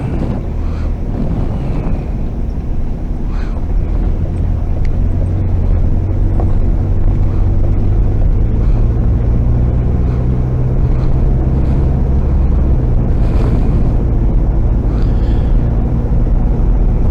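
A diesel vehicle cruises on a bitumen road out through the sparse suburbs of Marree, with a steady low engine drone and road rumble plus continuous wind buffeting at the microphone throughout.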